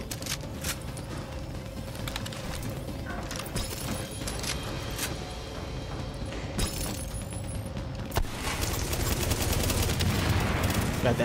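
Dense, sustained bursts of automatic gunfire and rapid shots from The Division on Xbox One, fired in near-constant volleys over a steady game soundscape, with a voice briefly talking.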